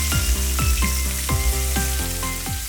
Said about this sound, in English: this combination stir frying smells so amazing